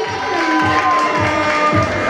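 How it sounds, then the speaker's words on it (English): A room of people cheers and applauds for Jackie, with a steady wash of claps and cheering voices, close and fairly loud, over a rhythmic thumping beat. "Can we just give her a round of applause?"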